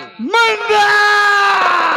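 A man lets out a loud, sustained yell that rises sharply in pitch and then holds, harsh and strained, during a tense confrontation over land.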